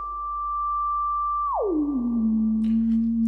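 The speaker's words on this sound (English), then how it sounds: "it will give you a sine wave." A self-oscillating synthesizer filter rings out as a pure sine tone, holding steady and then gliding smoothly downward to a lower pitch, where it settles into a steady hum. It sounds alone, clean and fairly loud.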